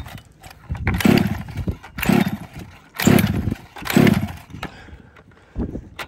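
A gas-powered 7.5 hp HPI Baja 5B SS RC car engine with the choke set cranks in about four rhythmic bursts, each a raspy buzzing pull, close and loud, with a short final burst; it does not clearly catch and run.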